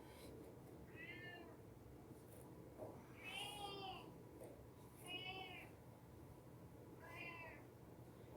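A cat meows four times at a steady pace during a home yoga session, each call clear and fairly close over a soft room background.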